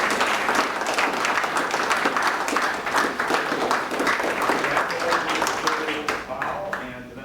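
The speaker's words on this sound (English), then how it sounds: "join me one more time in a round of applause for our departing board members, Rob, Andre, and Elaine." A room of people at a school board meeting gives a sustained round of applause for departing board members, dense clapping, loud and steady throughout before tapering slightly at the end.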